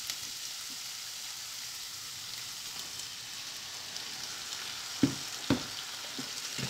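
Tomato puree sizzles in hot oil for paneer sabzi, giving a soft, even crackling hiss like light rain, with a couple of sharp utensil taps near the end.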